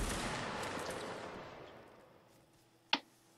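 A Napoleonic reenactment line fires a musket volley: a loud, broad blast whose echo rolls away over about two seconds, followed by a single sharp crack of a late shot.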